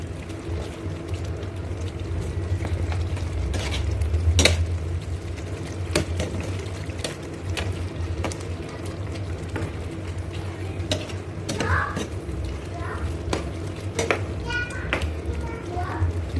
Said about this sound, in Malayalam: ഇനി നമുക്ക് ഇതിലേക്ക് ഈ ചിക്കൻ എടുത്തിട്ട് ഇതിലിട്ടിട്ടൊന്ന് മിക്സ് ചെയ്യാം കേട്ടോ